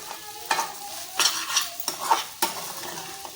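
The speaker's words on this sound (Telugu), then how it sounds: "ఇది వేసి కలిపేసుకొని 2 మినిట్స్ లో టు మీడియం ఫ్లేమ్లో పెట్టుకొని వేయించుకోవాలన్నమాట." Egg and vermicelli mixture frying and being stirred in a pan over a medium flame, with steady sizzling broken by several sharp scraping strokes of a spoon against the pan, close and fairly loud, no talking.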